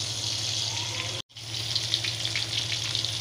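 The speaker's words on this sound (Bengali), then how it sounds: "এই তো একটু হলুদ আর একটু লবণ দিয়ে মাছগুলো সুন্দর করে ভেজে নিচ্ছি" Fish coated with turmeric and salt fry in a pan with a steady crackling sizzle, broken by a brief moment of silence before the sputtering picks up again.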